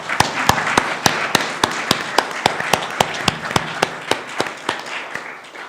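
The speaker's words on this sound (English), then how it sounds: "give our panelists just a great round of applause" Audience at a constitutional law panel applauds the panelists, sharp, evenly spaced claps ringing out close and distinct, slowly thinning toward the end.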